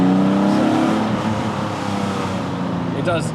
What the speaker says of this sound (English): Sounds amazing. Well, it's a proper straight 6.